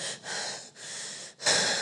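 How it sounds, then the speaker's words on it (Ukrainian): Rapid, forceful breathing exercise: three loud bursts of sharp, hissing breaths run back to back, separated by brief pauses, close to the microphone and with no speech over them. "ми так дихаємо 30 секунд"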